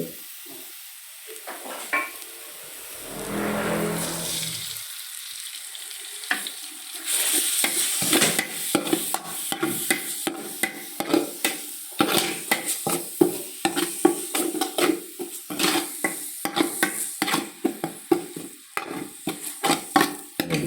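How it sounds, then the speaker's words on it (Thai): Spice paste is stir-fried in pork lard over low heat: a quiet start, then a steady sizzle with rhythmic spatula scrapes and clinks against the pan that continue close up. "เราก็จะผัดเครื่องนะ เราใช้ไฟอ่อน อน้ำมันที่เราใช้ก็เหมือนเดิมนะ เป็นน้ำมันหมู"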